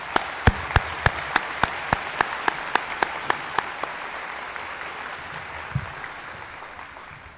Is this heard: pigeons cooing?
no